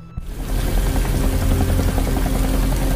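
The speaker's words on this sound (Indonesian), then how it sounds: "tampak sebuah helikopter sudah berada di atas" A helicopter hovers overhead in a film scene, a loud, continuous roar with a low, rapid rotor throb that starts abruptly after a brief quiet moment and holds steady.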